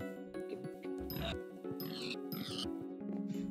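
Pigs oinking in Minecraft SkyBlock, a series of short grunting snorts repeating over a steady game background hum, with no talk over them.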